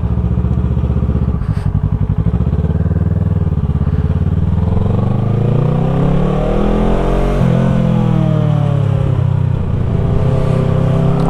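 A Kawasaki ER6f motorcycle engine accelerates through the gears, close and loud. Its tone climbs smoothly, drops at a shift, then climbs again over a steady rush of road noise, with no talking.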